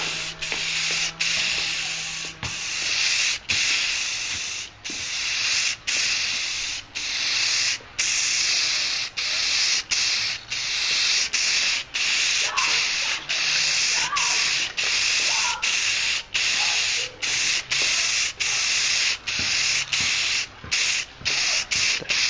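Aerosol spray paint hisses onto a Magneto cosplay helmet in a long run of steady bursts, each broken by short pauses, close and fairly loud with no talking.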